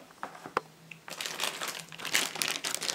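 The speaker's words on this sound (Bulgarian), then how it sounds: "Разопаковаме декодера." Packaging crinkles and rustles as a DVB-T set top box decoder is unpacked, with a few sharp taps first, then close, continuous crackling plastic and cardboard handling.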